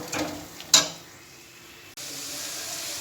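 Spice masala for aloo dum fries in a pan with a soft, steady sizzle, broken early by a couple of sharp scraping stirs and a sudden cut to louder, even frying.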